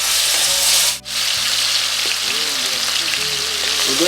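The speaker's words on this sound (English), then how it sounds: "Now we're going to start frying the chicken in medium heat" Chicken pieces sizzle and crackle in a pan over medium heat, a steady bright frying hiss with a brief dip near the start and faint background tones underneath.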